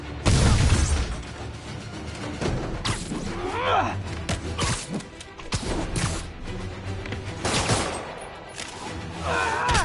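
Gunfire in Spider-Man on PS4, bursts of shooting mixed with booms, crashes and mechanical clanks, loud and dense throughout with swooshing game effects layered over it.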